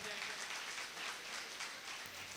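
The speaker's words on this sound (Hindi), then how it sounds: "उनके लिए एक बार जोरदार ताली बजाया जाए।" An audience at a formal closing ceremony claps together in a steady, fairly faint burst of applause lasting a couple of seconds, with no voices over it.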